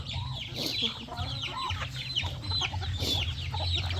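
Chickens cluck and chatter close by in a continuous busy flock, with occasional louder squawks over a low background hum.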